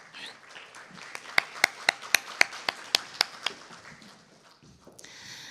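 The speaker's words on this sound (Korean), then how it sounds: "박사님 큰 박수로 맞이해 주세요." A small audience at a lecture on employee invention rules gives a short round of applause, about a dozen sharp, distinct claps in an even rhythm, fairly close and moderate in volume, then fading into quiet.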